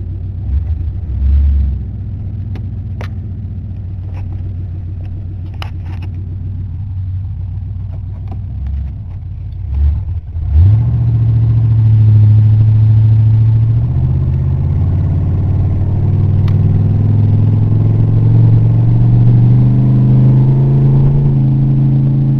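A Crown Victoria car engine idles with a low rumble, then revs up and pulls away, droning steadily louder as it drives after freshly reworked intake parts, close and alone without talk.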